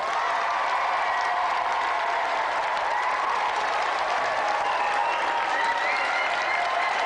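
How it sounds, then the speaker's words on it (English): Sustained television game show studio audience applause, steady and loud throughout, with a dense wash of clapping and no clear voices on top. "Not too much applause. That's quite enough, thank you."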